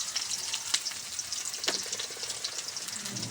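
Two bay leaves and chopped onions fry in hot oil in a pot, giving a continuous close crackling sizzle with faint stirring scrapes and no voices.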